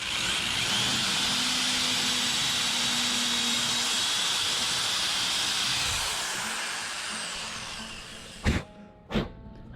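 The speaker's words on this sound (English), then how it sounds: "I'm just going to drill it through here so I can put my bolt through there" A drill bores through clamped wood to make a bolt hole for a homemade reusable Christmas tree frame, giving a steady hissing whine that fades out, then two sharp knocks near the end.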